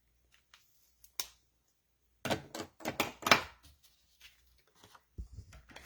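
Scissors snip paper while fussy-cutting around a large image, a few isolated small clicks followed by a close cluster of crisp, rapid cuts and then scattered quieter snips.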